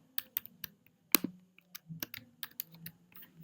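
Typing on a computer keyboard sounds as quiet, close, irregular key clicks and taps, a scattered run of about a dozen strokes with one sharper clack, in an otherwise silent room.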